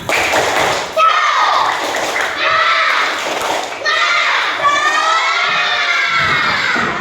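Schoolchildren in a classroom shout a loud rhythmic clapping chant together, with sharp hand claps under their excited voices.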